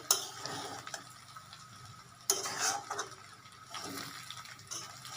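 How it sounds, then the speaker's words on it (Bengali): Vegetable rice being slowly stirred in a pan, giving close, soft scraping and clinking of the utensil with a faint sizzle, no talking. "জাস্ট মিক্স করবো আস্তে আস্তে আর কিছু করতে হবে না"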